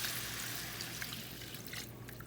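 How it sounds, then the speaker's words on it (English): Water pours into a cooking pot for pork carnitas in red sauce, a faint, steady splashing trickle that thins toward the end, with no voices. "I'm gonna add the water"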